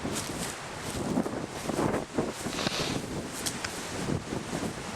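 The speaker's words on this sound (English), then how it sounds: "I don't know how much of this wind you're hearing." Gusty hurricane wind from Hurricane Irma buffeting the microphone outdoors, rising and falling in loud rushes with rustling foliage, no talk.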